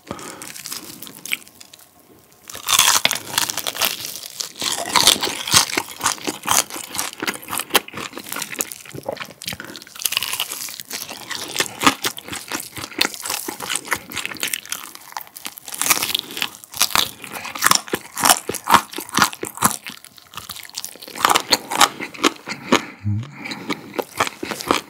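Loud, close crunching bites and chewing of crispy Goobne Mala Gochu Basasak fried chicken coated in mala spice powder and peanuts, with rapid crackly crunches repeating steadily through the meal.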